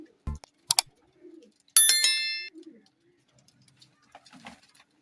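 Pigeon chicks give a few soft, low coos spread across a few seconds, with a sharp metallic ring and a couple of clicks in between, otherwise quiet.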